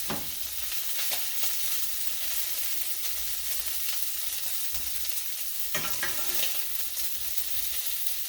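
Shrimp frying crisply in a hot pan on high heat, a steady dense sizzle with a few louder crackling bursts and stirring scrapes, close and continuous with no talking.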